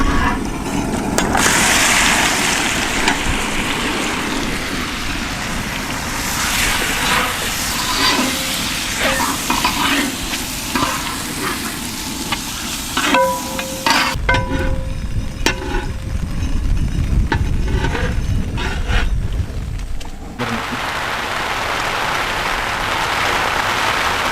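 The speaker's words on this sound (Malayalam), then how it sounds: "ചിക്കൻ നന്നായി നമ്മൾ ഫ്രൈ ചെയ്തെടുത്തിട്ടുണ്ട്" Loud, continuous sizzling of chicken frying in a pan, with stirring scrapes and crackles throughout, close up and no voices.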